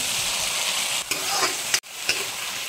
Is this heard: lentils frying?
yes